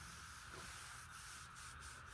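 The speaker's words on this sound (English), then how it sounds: "I'm sanding them out the best I can." An oak cutting board and tray still bearing chainsaw marks are sanded, producing a close, continuous abrasive hiss with a steady, even rubbing texture and no talking.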